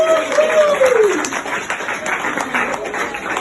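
Wedding guests clap and cheer at a reception, a close, dense patter of applause running steadily throughout, with a whistle sliding down at the start and voices mixed in the crowd.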